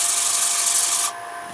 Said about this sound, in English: We could keep sanding that a little bit.